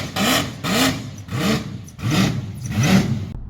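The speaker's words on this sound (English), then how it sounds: "or the growl of a nasty V8," A V8 car engine growls in a series of five rhythmic rev blips, each a short rising roar separated by brief dips, close and fairly loud with no talking.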